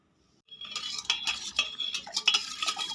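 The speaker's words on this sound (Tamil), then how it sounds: "இப்போ நம்ம அதில் பால் ஊற்றி மிக்ஸ் பண்ணிக்கலாம்." A spoon stirs milk into a coconut mixture with sugar and cardamom, starting after a brief silence with close, bright clinks and scrapes against the vessel in an uneven rhythm.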